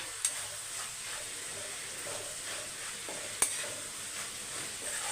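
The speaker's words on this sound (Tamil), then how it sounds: "கொஞ்சம் கருவேப்பிலை சேர்த்துக்கோங்க சேர்த்துட்டு மிக்ஸ் பண்ணிவிட்டு மூடி வச்சுருங்க" Mushroom pepper thokku with curry leaves gets stirred in a pan with the heat off, a faint steady sizzle underneath and two sharp spatula clicks against the metal.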